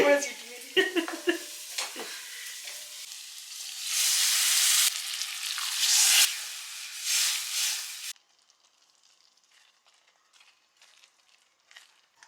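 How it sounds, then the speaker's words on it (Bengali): Garlic and Kashmiri red chilli powder fry in butter for a dal tadka, with a few stirring clinks first, then a loud hissing sizzle in bursts that stops abruptly, leaving faint quiet crackles. "তো এই বাটারের মধ্যে অ্যাড করলাম রসুন, আর একটু কাশ্মীরি রেড চিলি পাউডার দিচ্ছি কালারের জন্য।"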